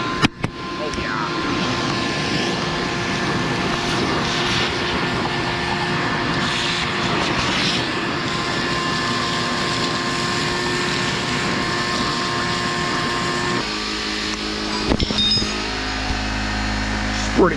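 Compressed air blasting debris out of a clogged Fecon forestry mulching machine, a steady loud hiss and rumble holding for about thirteen seconds before cutting out, followed by shorter bursts.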